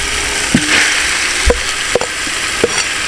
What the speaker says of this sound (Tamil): க்ளீன் பண்ணி வச்ச போட்டி நல்லா ஃப்ரை பண்ணிடலாம்